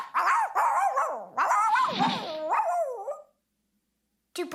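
Genevieve, a cartoon dog, barks in a quick series of loud, close yips and woofs, then falls briefly silent before another burst.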